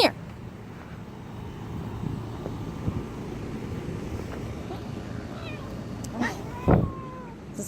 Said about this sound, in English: This is a very angry kitty.